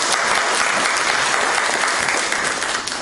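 Dense, loud crowd applause fills a candidate forum hall, a continuous roar of many clapping hands held steady throughout and tapering slightly at the end, with no talk over it.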